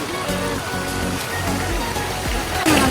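Rushing, splashing water of a shallow stream being waded through, with uneven sloshes and a louder splash near the end.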